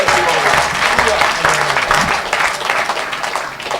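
Loud, dense applause from a church crowd at a revival meeting, sustained throughout and slowly easing toward the end, with voices mixed in.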